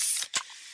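A fizzy Pepsi can being opened, a sharp hissing burst with a quick click-like pop in the middle, then a softer lingering fizz, close and alone.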